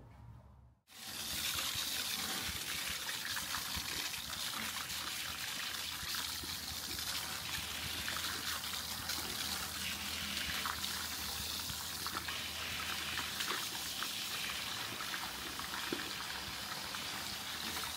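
Water runs steadily from a barbershop sink tap while hair is washed, a close continuous hissing stream that starts abruptly after a brief silence and continues without talk.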